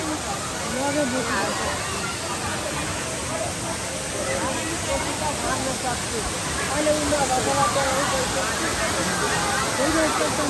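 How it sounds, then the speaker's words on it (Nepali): Namaste Waterfall in Nepal roars as a dense, steady rush of falling water, loud and continuous, with faint crowd chatter of visitors mixed underneath. "हेर्नुहोस् त नमस्ते झरना।"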